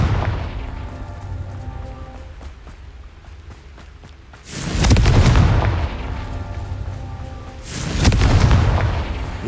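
Two heavy, booming blasting-curse explosions from a Harry Potter video game, each a loud burst with a long rumbling tail. They arrive a few seconds apart over a quieter bed of clicking game sounds.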